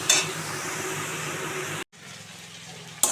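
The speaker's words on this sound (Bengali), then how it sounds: "এইভাবে আমি নাড়াচাড়া করে কষিয়ে নেব" Chicken sizzles in a hot pan with bay leaf and cumin as it is stirred and browned, a steady quiet frying hiss that cuts off briefly before resuming more softly.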